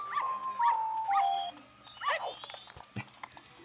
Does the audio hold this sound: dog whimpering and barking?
yes